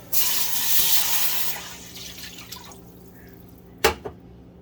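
Liquid poured into a cooking pot while making garlic soup, a steady broad pouring rush for the first couple of seconds that fades, followed by two sharp clinks near the end.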